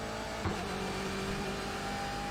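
A BMW M8 GTE race car engine on the track at Barber Motorsports Park drones steadily with a sustained tonal whine, throttle building gently and evenly across the short stretch, continuous and close.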